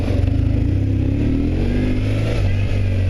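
A BMW GS adventure motorcycle, an F800GS or R1150GS, revs steadily while riding, its engine note rising and holding loud and close, with steady wind rush throughout.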